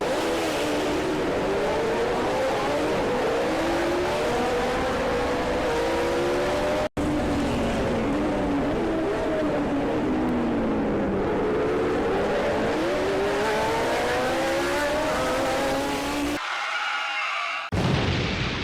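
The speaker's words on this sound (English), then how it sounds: "let's head out to Carstorphine in my old car" An old car drives through town traffic, its engine droning steadily with shifting road noise and passing vehicles for most of the stretch, then a brief abrupt change near the end.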